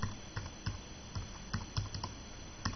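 A Bluetooth keyboard connected to an iPhone is typed on, producing quick, irregular clusters of soft key clicks close to the microphone, alone over a faint steady hum.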